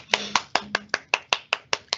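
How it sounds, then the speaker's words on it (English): Close, crisp clapping at an online school attendance awards event: about ten evenly spaced claps in a steady rhythm, each one sharp and bright, with no voices. "Let's give yourselves a huge round of applause for that as well"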